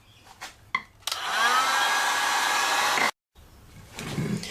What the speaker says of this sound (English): you can use a stovetop or one of these heat guns to heat up the top area that we just cut on this PVC